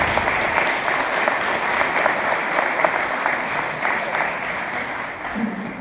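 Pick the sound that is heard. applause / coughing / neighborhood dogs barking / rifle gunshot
applause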